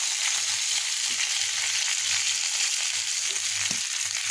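Fish fries in a hot pan in a home kitchen, making a steady, dense sizzle and crackle that continues close and even throughout, with no talk.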